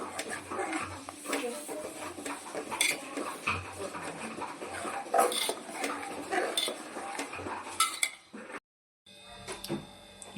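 Milk being stirred in a pot over a low gas flame while making paneer, with repeated clanks and scrapes of a metal spoon against the pot, a dog whimpering now and then in the background.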